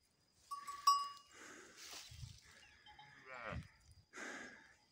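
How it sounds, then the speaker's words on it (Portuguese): Newborn calf bawling on a cattle farm, several short moaning bleats at moderate distance with quiet gaps between them and some faint background sounds. "E tem outro bezerro berrando cá"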